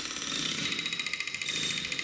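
A rapid, regular pneumatic hammering with a hissing air tone, a rivet gun pounding quickly on metal close by during riveting practice for airplane repair.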